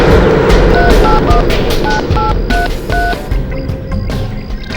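A telephone number is dialed on a public phone booth line, a run of short, evenly spaced keypad tones, loud and close over a busy street background with traffic rumble.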